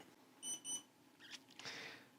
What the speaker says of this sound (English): And when it's done, you'll hear a beep